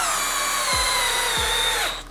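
A DeWalt 12V drill drives a 3.5 inch fastener with a steady, loud, high motor whine that runs nearly the whole time. Two short low thumps land partway through, and the sound then winds down at the end. No one speaks.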